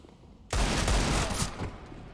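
A loud close burst of gunfire in a Counter-Strike style video game, a sudden rapid volley of shots lasting about a second before a ringing decay.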